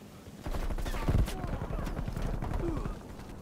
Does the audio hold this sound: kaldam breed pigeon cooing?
no